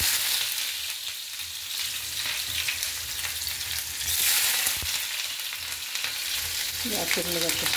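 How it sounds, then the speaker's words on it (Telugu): Onions dropped into hot oil fry with a loud, steady hiss and crackle, with scraping stirring sounds and a brief ringing clink near the end. "నూనె అయితే వేడెక్కింది ఫ్రెండ్స్, ఉల్లిపాయలు వేసేస్తున్నాను"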